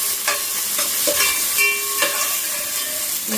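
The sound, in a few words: onion sautéing in a pan for masale bhat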